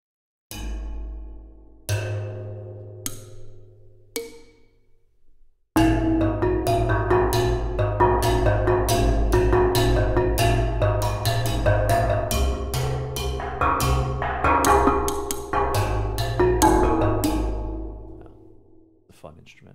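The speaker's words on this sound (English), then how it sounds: "this is a whale drum and the tongue drum." Whale drum and tongue drum from the CinePerc AUX percussion library: a few sparse resonant strikes with ringing decay, then a dense, loud, continuous pattern of overlapping tuned hits that fades out near the end.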